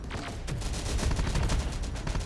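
Dense, rapid gunfire from a firefight in the Terminator Dark Fate video game, a continuous rattling fusillade of overlapping shots at steady loudness with no talk.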